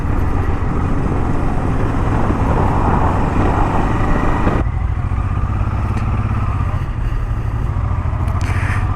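A motorcycle rides near Pancharevo lake in Bulgaria, its engine a loud, continuous drone mixed with wind rush, close and steady throughout, with a brief shift in tone midway and no speech.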